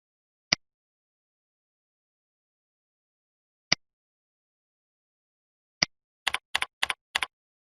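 Isolated keystrokes on a computer keyboard, three single taps spaced seconds apart, then a quick burst of several clicks, close and crisp against silence.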